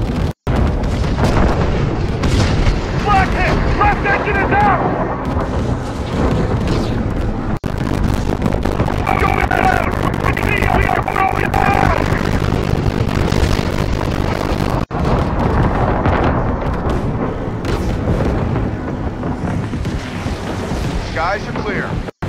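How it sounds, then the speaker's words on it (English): Flak explosions bursting around a bomber's aircraft in Call of Duty WWII, a loud, dense, constant roar of booms and rumble, with radio voices talking throughout. "Flak hit! Left engine is out!"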